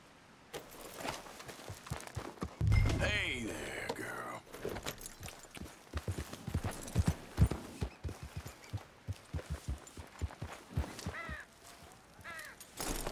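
Hooves of a horse in Red Dead Redemption 2 walk in a steady, regular clopping rhythm close by. A crow caws once and a voice speaks briefly over it.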